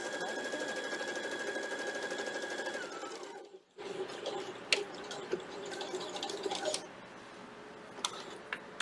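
A sewing machine stitches quarter-inch seams along quilt borders, running in steady whirring bursts with a brief stop near the middle, then resuming with light clicks and taps close by.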